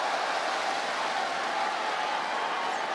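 Crowd at a world table tennis team championship final applauding, a dense steady wash of clapping with no breaks, loud and filling the whole stretch.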